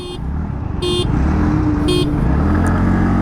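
Three short bursts of a TVS Ntorq 125 Race XP scooter horn beep over a steady idling engine and road noise, the honks spaced about a second apart.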